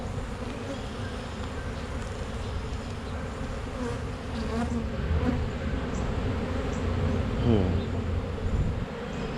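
Honey bees swarming around an opened hive during the first hive inspection of the year, a dense, continuous buzzing close by that swells slightly midway, with a few louder bees passing near.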